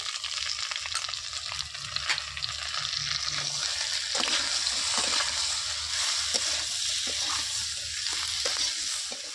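Taro and potatoes fry in hot fish oil seasoned with salt, turmeric and chili paste, giving a continuous close sizzle broken by stirring scrapes and soft spattering.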